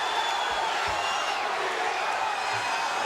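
A fight crowd on its feet in an arena in Lake Charles, Louisiana, making a steady, dense roar of cheering and shouting that holds at a constant level throughout, with scattered voices inside the noise.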